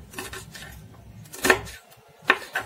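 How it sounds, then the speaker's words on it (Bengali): A knife chops two green chillies on a board in a home kitchen: a few quiet scattered taps, then two sharper knocks of the blade striking the board, with no talk. "এবারে আমি কাঁচা লঙ্কা দুটো কেটে নেব।"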